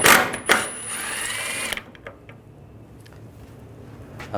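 A 10mm socket ratchet removing a bolt on a 2014-2019 Toyota Corolla, giving close loud ratcheting clicks and a whirring spin at first, then sparse faint ticks and light taps.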